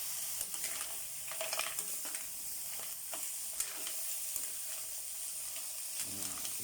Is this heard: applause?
no